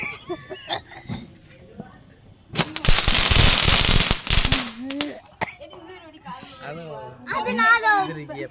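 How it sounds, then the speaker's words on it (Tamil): A rocket firework set off nearby gives a loud two-second whooshing hiss, with people talking in Tamil and a rooster crowing around it. "அவ இவனுக்கு ஒரு ராக்கெட் விட்டு தான் அவன் தூங்குவான்"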